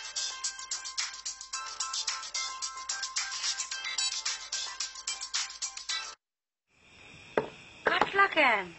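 A mobile phone ringtone plays a fast, bright repeating chime pattern for about six seconds, then cuts off abruptly; after a short silence other sharp electronic tones and sounds follow.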